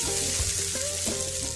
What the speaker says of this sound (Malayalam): ചേർത്ത് കൊടുത്ത സബോളയുടെ കളറൊക്കെ മാറി ഒന്ന് മൂത്ത് കിട്ടണവരെ മീഡിയം ഫ്ലെയിമിൽ കുറച്ച് നേരം ഒന്ന് വഴറ്റിയെടുക്കാം